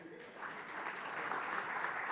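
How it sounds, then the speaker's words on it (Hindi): A studio audience at a televised political discussion breaks into applause, a steady wash of clapping that swells slightly and holds, heard fairly faintly. "तालियां प्लीज"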